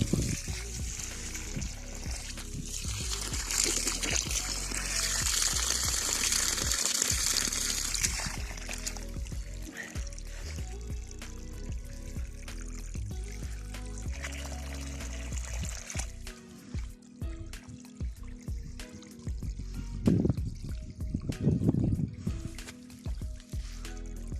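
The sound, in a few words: irrigation water flowing onto guava trees in a field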